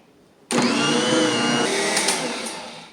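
A dough machine called Big Bertha kneads sourdough bread dough, starting abruptly as a loud, steady motorised whir and churn that holds for a couple of seconds before easing slightly, with no voices.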